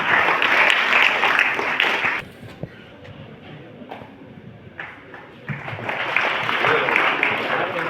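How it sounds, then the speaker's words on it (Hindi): Applause from a school gathering honouring teachers and a top student, a loud burst of clapping that dips into quieter murmuring and taps, then swells again near the end. "जोरदार तालियां इनके लिए"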